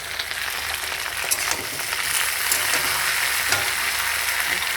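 Spice paste of ground ginger, chili and cumin sizzles steadily in a hot pan, a continuous bright crackle with a few sharper spatters and scrapes, growing slightly louder partway through, no voices.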